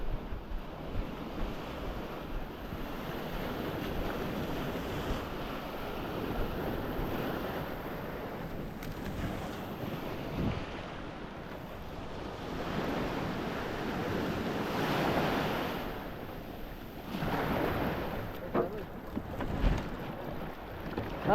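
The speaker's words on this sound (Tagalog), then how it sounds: "Malalaki ng alon." Big sea waves wash and surge beside a small wooden fishing boat, a steady rushing roar with wind buffeting the microphone and louder swells building and breaking at intervals throughout.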